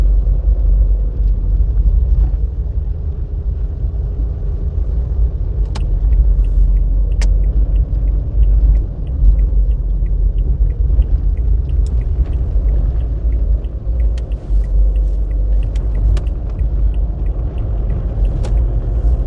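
A Citroën Berlingo climbing a snowy, icy road, heard from inside as a steady low engine and road rumble with faint crackling from the tyres, loud and continuous without talk.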